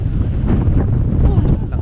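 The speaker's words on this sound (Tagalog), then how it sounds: "Lakas ng hangin." Strong wind on an open, tree-covered mountain hillside buffets the microphone with a loud, continuous roar and rumble, masking a voice underneath.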